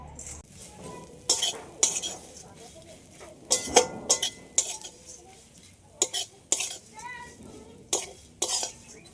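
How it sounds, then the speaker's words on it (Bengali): Flattened rice tipped into hot oil in a pan and stirred with a spatula, giving sharp metallic scrapes and clinks at irregular intervals over a soft frying hiss, close by. "চিড়েগুলো দেওয়ার পরে এইভাবে খুন্তি দিয়ে নাড়তে হবে"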